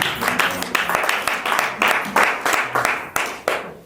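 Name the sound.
congregation applauding in church worship service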